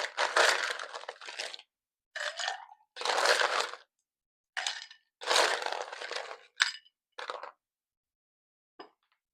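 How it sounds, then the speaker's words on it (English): Ice goes into a cocktail mixing glass for a blood orange Negroni in several loud, close bursts of crunching, rattling cubes separated by brief silences, with a final small clink. "we are going to put ice into our mixing glass"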